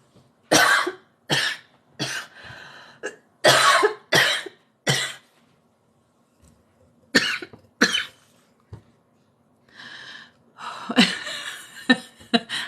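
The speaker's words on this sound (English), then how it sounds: "hydrate because I feel a cough spasm" Repeated harsh coughs in clusters, some close together, with gasping breaths and brief pauses between bursts.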